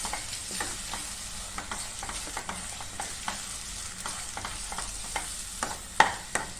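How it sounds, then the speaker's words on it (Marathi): Black paste of roasted chili and onion with coconut being stirred and fried in a pan for a chicken masala, with steady close sizzling and regular scraping strokes of the spoon throughout. "ह्याच्यात आपण हे काळं वाटण जे केलेलं आहे मिरची आणि कांदा भाजून घेतलेला ते ह्याच्यात घालून परतून घ्यायचं"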